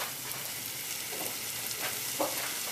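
Peppers added back into a hot pan of lamb jalfrezi with tomatoes sizzle and crackle steadily up close, with light stirring scrapes and no talk.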